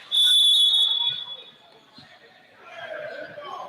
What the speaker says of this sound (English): here they come and get a whistle and foul